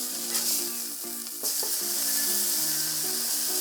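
A stuffed jalapeno popper burger sizzles loudly on a hot cooking surface just after flipping, a dense, continuous frying hiss with a few faint knocks.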